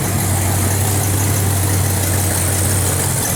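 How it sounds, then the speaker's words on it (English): A 1967 Chevrolet Impala engine runs without headers or mufflers, a loud, steady, open idle with a strong low hum and raw exhaust roar up close, no talking. "There's your engine running."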